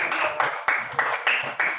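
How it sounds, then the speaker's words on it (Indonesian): Rhythmic group clapping in a primary school classroom, a handful of sharp claps in a regular beat with short pauses between, close and fairly loud. "Tepuk tangan buat semuanya, insyaallah."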